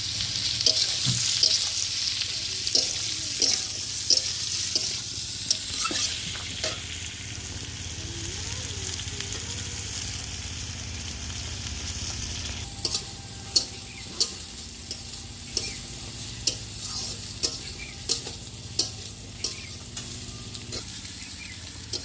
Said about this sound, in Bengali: কড়াইতে একটু জল বসিয়ে দেবো তো এবার সেদ্ধ মাংসটা দিয়ে দিলাম